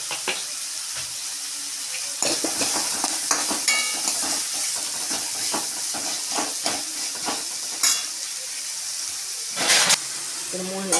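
Onions frying in a pan with an ongoing sizzle and hiss, broken by scraping stir strokes and bursts of sharper crackle, while a person talks intermittently over it.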